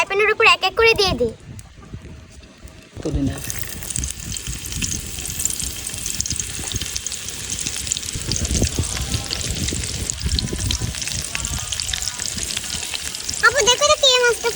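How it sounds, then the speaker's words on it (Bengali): Fish frying in hot oil in a frying pan in a village kitchen, a steady broadband sizzle running for most of the stretch, with people talking briefly at the start and again at the end. "তেল গরম হয়ে গেছে, তো চলুন এবার মাছগুলোকে ফ্রাই প্যানের উপর এক এক করে দিয়ে দিই।"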